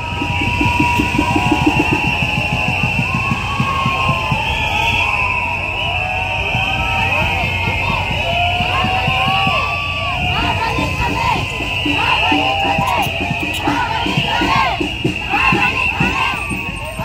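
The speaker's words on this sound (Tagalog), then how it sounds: "hiyawan na sila." A rally crowd supporting Quiboloy shouts outside the Senate of the Philippines, a dense, continuous mass of voices and cheers rising and falling over the whole stretch.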